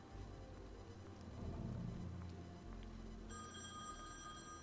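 Telephone ringing in The Wolf Among Us video game: a faint trilling bell ring over low background music, with a brighter, higher ring entering near the end.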